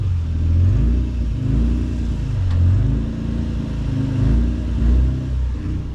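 A Lexus SC300 with a swapped CD009 transmission, engine revving up and dropping back in repeated cycles as gears are shifted with the clutch, close and fairly loud, no voices.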